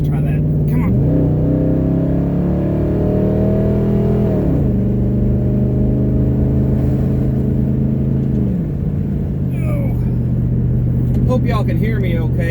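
Old work truck engine droning loudly from inside the cab while driving, rising and settling through gear changes in steady cycles, with a voice briefly heard over the engine near the end.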